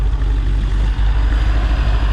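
An unmodified 996-generation Porsche 911 GT3 engine runs loud and close with a deep throbbing pulse and a brief dip near one second before the engine note picks back up, alone without voices.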